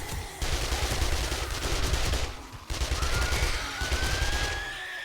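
Automatic turret fire in the zombie survival game 7 Days To Die: a dense, continuous stream of rapid shots that breaks off for a moment and then resumes, loud and close, with no talking.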